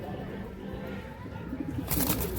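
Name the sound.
Chennai pigeon cooing while handled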